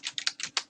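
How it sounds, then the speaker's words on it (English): Quick run of keystrokes on a computer keyboard, about seven distinct close clicks in under a second, crisp and alone with no voices. "So if in the address bar you type in"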